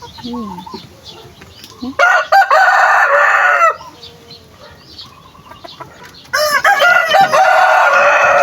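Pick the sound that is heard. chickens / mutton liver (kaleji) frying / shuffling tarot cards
chickens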